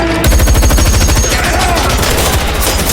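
In an action film bank robbery shootout, loud, rapid bursts of automatic gunfire rattle continuously, close and sharp, with dense repeated shots throughout.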